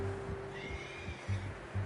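A horse in the video game Red Dead Redemption 2 gives a short, fairly soft neigh with a few pulsing snorts, heard up close with no speech.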